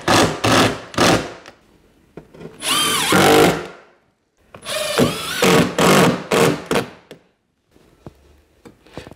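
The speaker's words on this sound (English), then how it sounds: "which I'll put a screw in, but then I'm going to put another screw right next to it where the stud is" A power drill drives screws into a timber stud behind damaged plasterboard. Several close, loud bursts of whirring rise and fall, each a second or two long, separated by short pauses.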